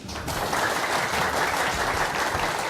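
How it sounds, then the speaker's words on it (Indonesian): A crowd breaks into steady, sustained applause at a presidential debate event, dense clapping filling the room for the whole stretch without pause. "Kita berikan tepuk tangan."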